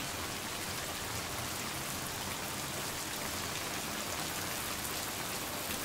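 Steady, dense rain falls at night in a continuous even wash of hiss and patter, close and unbroken throughout with no voices or other sounds.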